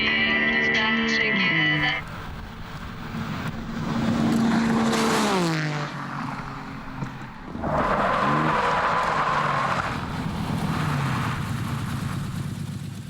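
A TVR Tuscan S sports car blasts past on a test track at over 170 mph, its engine rising and falling in loud passing surges, including a final roaring pass.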